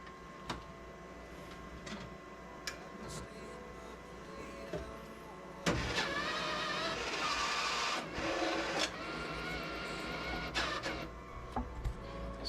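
An S2000 Double Diamond Deluxe slot machine switching on gives scattered clicks and ticks, then a sudden louder steady mechanical whirring with intermittent clunks and ticking, heard up close.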